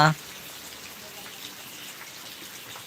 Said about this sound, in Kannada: ಇಲ್ಲಿ ಮಳೆ ಬರ್ತಾ ಉಂಟು